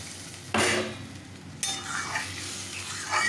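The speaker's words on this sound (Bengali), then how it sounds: "জল দিয়ে ভালো করে ওটাকে আমি নাড়িয়ে দিলাম" Fish and potato curry with water added is stirred in a pan, giving a few sharp scraping strokes and soft sloshing with a light sizzle underneath, close and fairly quiet.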